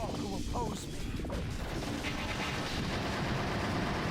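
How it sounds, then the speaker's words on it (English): Assault rifle fire in Shadow the Hedgehog: a dense, rumbling stretch of shots and impacts that keeps going throughout, fairly loud and washed together with game noise. "I used my assault rifle to take it out"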